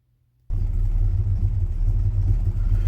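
A 1966 Chevy C10 pickup engine fires up after a second of silence and settles into a loud, steady low rumble that holds close and constant without a break.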